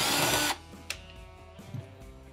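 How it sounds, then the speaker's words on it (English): A power driver spins out a quarter-inch screw from the kick plate of a Whirlpool dishwasher, giving a loud half-second whir that stops abruptly, followed by a sharp click and faint handling clatter. "we'll remove the right side quarter inch screw"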